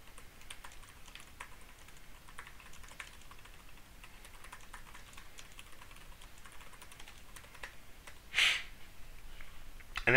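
Keys tapped on a computer keyboard in a quiet room, a soft irregular run of light clicks that continues steadily, with a brief louder breath or rustle near the end.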